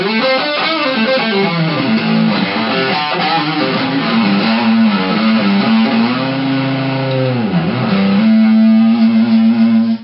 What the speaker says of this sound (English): If you turn on the distortion pedal, this is a Boss DS1 distortion.